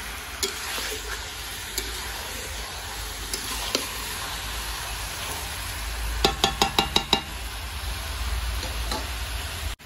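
Steady sizzling of chicken frying in a pan, with occasional stirring clicks and a quick burst of sharp ticks partway through.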